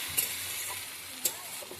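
Chili paste is sautéed in a pan for a kochu mukhi and hilsa curry: a quiet, steady sizzle with two brief clinks of a spatula scraping the pan.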